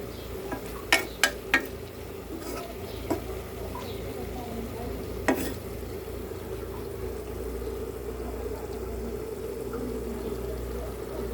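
Small fish with coriander leaves cook in a pan with a steady low sizzle. A few sharp scraping knocks of stirring come early on, then the frying continues evenly and close by.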